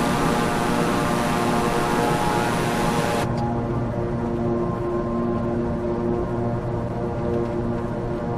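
A Beechcraft King Air turboprop in Microsoft Flight Simulator drones loudly and steadily during takeoff and climb, its engine hum continuous, with the broadband rush dropping abruptly partway through.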